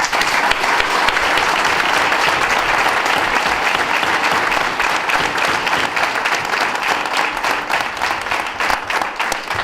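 A large crowd at a political campaign rally applauds steadily and loudly throughout, dense clapping with no pauses or voices standing out.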